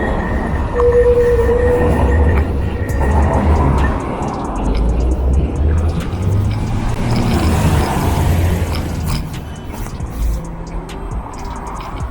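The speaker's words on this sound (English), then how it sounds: "Like a last stop for trams or something." A tram passes on rails in a Saint Petersburg residential area near a final stop, a steady loud rumble of rolling wheels carrying on for about ten seconds before easing off, with a brief squeal early on.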